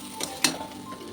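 Spices fry in a little oil in a pan during Bengali home cooking, giving a soft sizzle with two brief sharp crackles or stirring scrapes over about a second.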